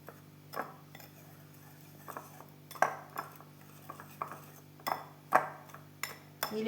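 Powdered sugar being stirred into a milk cake batter in a bowl, heard as a series of light clinking and scraping taps of utensil against the bowl at an irregular rhythm, close and fairly quiet with no talking.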